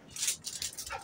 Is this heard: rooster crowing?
no